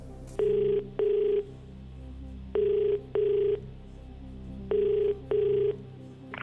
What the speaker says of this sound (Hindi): विनीत कुमार जी को पटना में फोन लगाया जाए।